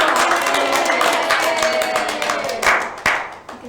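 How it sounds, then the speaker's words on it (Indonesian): An audience claps together, a dense burst of applause that thins out into a few scattered claps, with a hint of voices under it. "Beri tepuk tangan."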